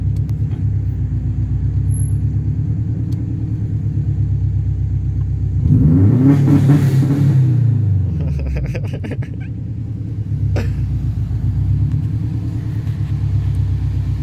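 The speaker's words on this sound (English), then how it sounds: "It's that anti-lag braking, boy." Subaru WRX with anti-lag and a notchy 6-speed manual, heard from inside during a ride-along: a steady low engine drone that swells into a loud rev around the middle, with crackling pops, before settling back to cruising rumble.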